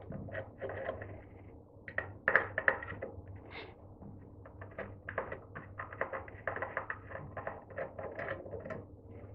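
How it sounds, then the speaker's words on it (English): Two screws holding the carbon brush on a Henry vacuum cleaner motor are worked loose, giving close, quick clicks, ticks and light metallic scrapes in irregular clusters over a low background hum. "just removing the 2 screws that are holding the carbon brush in place"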